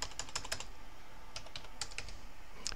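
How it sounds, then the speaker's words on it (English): Button presses on a calculator keypad entering numbers, a few quick clicks, a pause, then a second short burst of taps, close and fairly quiet. "Come to my calculator, type in 16"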